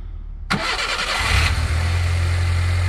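A Nissan Micra K10 with its choke flap closed cranks briefly and fires up at once, settling into a steady, loud idle with a deep low rumble, no voices.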